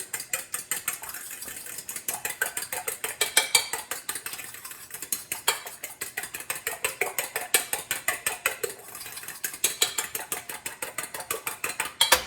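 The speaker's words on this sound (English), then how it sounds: "And then whisk that up with our fork really nicely." A fork rapidly whisks two eggs with salt and pepper in a bowl, producing quick, steady metallic clicking taps in a fast continuous rhythm, close and alone without talk.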